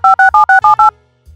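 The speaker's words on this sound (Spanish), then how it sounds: "Espera, llamemos a Lila." A phone keypad beeps six times in a quick, even run of dialing tones that sound loud and close. A short quiet follows, then a faint low thump.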